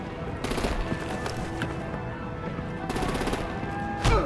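Gunfire in the video game Batman: The Enemy Within, a fight over disabling vehicles with artillery: rapid bursts of automatic shots in two clusters amid rumbling background action, ending with a sharp louder blast.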